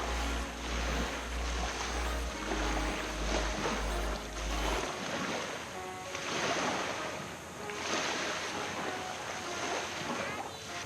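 Ocean waves break and wash onto a beach at Gillum Bay in the Bahamas, rising and falling in several surges. A low rumble of wind noise on the camera mic sits under them for the first few seconds. No one speaks.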